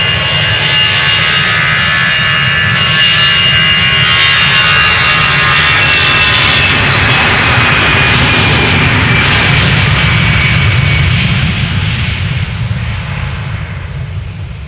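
Loud, close jet roar of an EasyJet Airbus A320 taking off from Schiphol's Polderbaan runway, bound for London Gatwick, a sustained powerful engine blast with rumbling lows and whining highs that fades slightly at the end.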